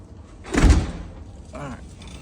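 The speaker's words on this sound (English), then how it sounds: "All right, close the door." A door swings shut with one loud, close thud, followed a moment later by a faint voice in the background.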